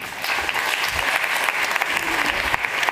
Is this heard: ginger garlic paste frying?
no